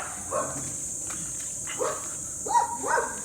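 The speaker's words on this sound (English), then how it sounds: "My dog is visiting other dogs." Dogs romp together on a street, giving a few short yips and barks amid scuffling, with faint outdoor background noise and a steady high hiss.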